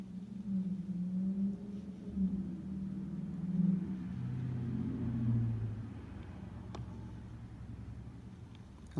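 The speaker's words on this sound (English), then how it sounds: "A lot of traffic noise today." Low, steady traffic rumble from passing cars outside, fairly faint and continuous, with no one talking.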